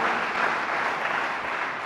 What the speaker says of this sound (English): So I think we should clap for them once again.